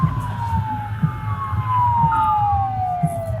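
A wailing emergency vehicle siren glides downward in pitch outdoors, over a low rumbling engine and traffic.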